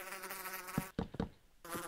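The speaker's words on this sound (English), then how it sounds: "Fuck off, bee, or I will fucking kill you." A bee in modded Minecraft gives a steady, thin buzz that cuts out for a moment and then resumes. A few soft knocks or thumps sound in the gap.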